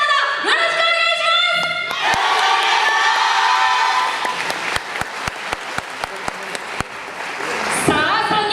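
A festival crowd at a yosakoi dance event in Ofunato cheers and claps loudly, with sharp rhythmic hand claps snapping in a steady beat near the end over the continuous roar.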